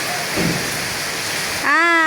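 Rain falls outdoors while boys play in it, a steady broad wash of rain hiss. Near the end a voice calls out over it.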